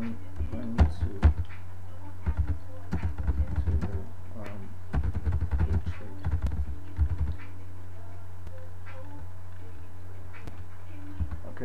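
Computer keyboard typing in quick bursts of close clicks, pausing for a stretch midway and then trailing off, with a steady low hum underneath.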